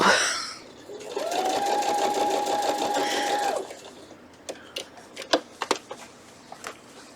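A sewing machine runs in one steady, fast whirring burst of about two and a half seconds while stitching an infinity chain quilt, then falls silent apart from scattered clicks and fabric handling nearby.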